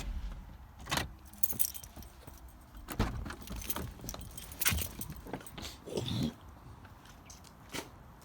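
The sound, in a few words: Audi car being turned off, keys jangling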